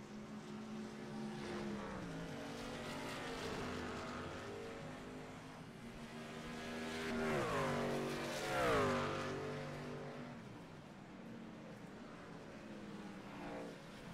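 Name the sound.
race trucks on track at Watkins Glen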